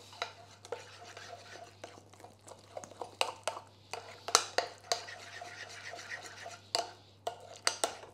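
A utensil stirs an egg through a bean mixture for vegetarian meatballs, with soft repeated scraping and clicking against the bowl, close and fairly quiet, under a steady low hum.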